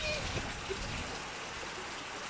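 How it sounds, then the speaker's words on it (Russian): A heavy rain downpour outdoors, with a dense, steady hiss of splashing water that fills the scene evenly throughout and does not let up. "У нас тут ливень."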